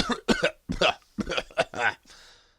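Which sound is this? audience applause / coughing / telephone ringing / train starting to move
coughing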